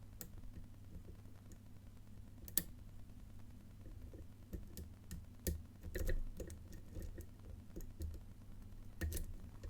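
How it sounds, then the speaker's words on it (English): Faint, sparse metallic clicks and ticks from a lock pick working the pins of an old Avocet Euro cylinder lock with ABS, irregularly spaced over a quiet hum. "Little click on pin 6. Little click on 5. Pin 3 now."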